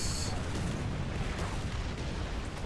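Explosions boom in the War Thunder tank game, with dense, continuous rumbling blasts and crackling detonations near a tank that carry on throughout at steady loudness.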